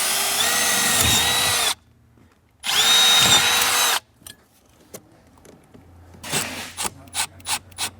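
A power drill bores 3/16-inch holes in the gas pedal of a BMW 1M in two loud, close bursts of high whining. Quieter scraping and rubbing follow, then softer rhythmic filing strokes, with no talk.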